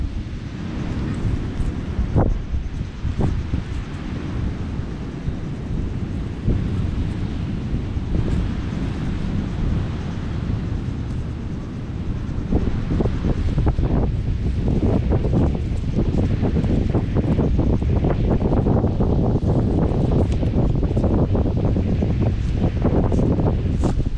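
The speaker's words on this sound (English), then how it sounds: "Wind is pretty strong this evening." Strong evening wind buffets the microphone outdoors in a continuous, loud roar with gusty swells and rustling, growing heavier in the second half.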